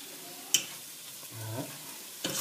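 Colombo-style chicken and potatoes cook in a pan with a quiet, low sizzle, punctuated by two distinct clacks of a utensil stirring and scraping, close and fairly soft.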